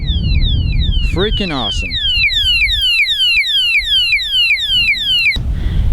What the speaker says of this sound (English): say they tug on this bar, alarm goes off